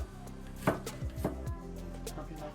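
Knife slicing peeled garlic on a cutting board, a series of sharp, close taps at an irregular pace over a low steady background hum.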